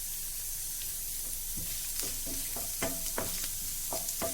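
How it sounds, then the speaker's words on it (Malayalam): Green chillies and a small piece of ginger dropped into sizzling coconut oil, a constant frying hiss with a series of sharp pops and spatters in the second half. "പച്ചമുളകും ഒരു ചെറിയ പീസ് ഇഞ്ചിയും കൂടി ചേർത്ത് കൊടുക്കാം."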